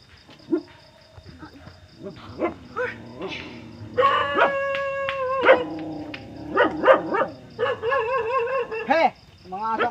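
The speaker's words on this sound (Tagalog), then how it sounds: "Hey, mga aso kayo." Several dogs bark, yip and whimper close by in repeated sharp bursts, with people talking between and over the barks.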